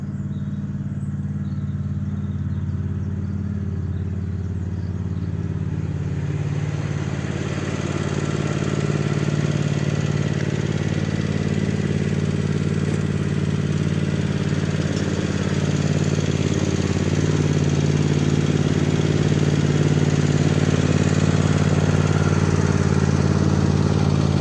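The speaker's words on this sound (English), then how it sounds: "that's the little red tractor out. I'll just give it 5 minutes to warm up." A small red tractor engine runs and warms up after starting, a steady mid-pitched mechanical rumble that grows slightly louder and fuller over the stretch, close by and with no talking.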